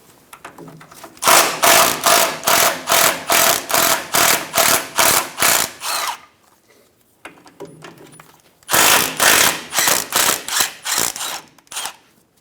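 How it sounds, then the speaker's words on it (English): A 10mm socket ratchet backs out sway bar bracket bolts on a 2014-2018 Chevrolet Silverado 1500, with two bursts of fast, loud, regular clicking separated by a short pause, close up. "Using a 10mm socket, remove the 2 bolts for the sway bar bracket."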